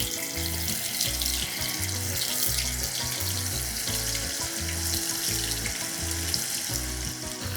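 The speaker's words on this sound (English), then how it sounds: "Let's transfer this in hot oil very carefully." Small tofu pieces fry in hot oil with a steady, close sizzle and hiss that runs through the whole stretch, partly under a rhythmic music bed.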